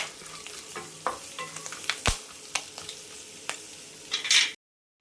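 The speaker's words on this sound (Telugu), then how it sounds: "మొత్తం కలిసేటట్టు 2 నిమిషాలు కలుపుకోవాలండి." Spice masala and turmeric being stirred in a pan for a puffed-rice murmura snack, with a steady low sizzle and repeated scraping clacks of a spoon against the pan close by, before the sound abruptly stops.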